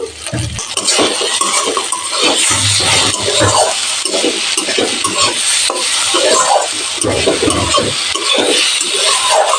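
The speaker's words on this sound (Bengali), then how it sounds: "এবার ভাজা আলু অ্যাড করে দু মিনিট কষিয়ে নেব" Fried potatoes for Punjabi aloo methi being stirred and sautéed in a pan, with a steady sizzle and repeated scraping and clinking of a spatula against the metal, close and loud.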